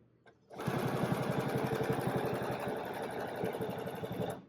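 Domestic sewing machine running steadily while free-motion quilting a feather spine on a square feather quilt block, a fast even mechanical hum and needle rattle starting after a brief pause and continuing close and loud without talk.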